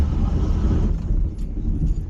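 A car engine runs cold with its exhaust tail pipe removed, a steady low rumble that sits close and loud for the whole stretch, slightly unsettled as if the engine wants to stall.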